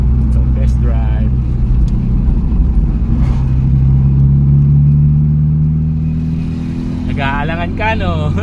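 Toyota 4AF-engined car on a test drive after a distributor replacement, with a steady low engine drone and road rumble throughout and someone talking over it near the end.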